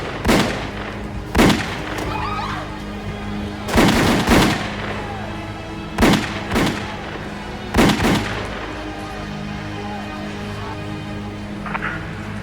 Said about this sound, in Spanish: Al salir del automóvil, varios hombres se les acercaron y comenzaron a disparar.